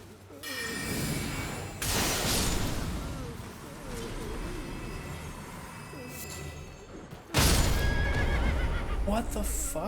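A horse in Elden Ring: Shadow of the Erdtree whinnies loudly several times between booming combat impacts, with hoof clip-clops mixed in. The game sounds play without any voice over them.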